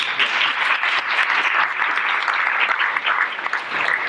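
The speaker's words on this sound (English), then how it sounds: "Let's give them all a round of applause." An audience at a business luncheon gives a sustained round of applause, many hands clapping in a dense, even patter that stays steady for several seconds without voices on top.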